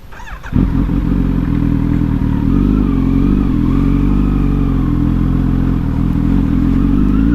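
A Kawasaki Z900 motorcycle with its bread box deleted idles and revs close by after a sharp start-up burst, its deep exhaust rumble steady and loud throughout, with faint rattly pops on top and no voices.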